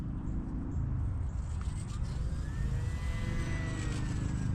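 A HobbyZone Apprentice STOL RC plane with a brushless motor flying on a windy day, a steady whine overhead with a thin rising and falling tone under heavy low wind rumble.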